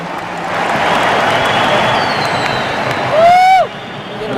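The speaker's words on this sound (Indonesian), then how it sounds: "Kita beri tepuk tangan untuk beliau." A large crowd applauds at a NasDem party rally in a stadium, a broad sustained wash of clapping and crowd noise, with a loud whistle sweep near the end.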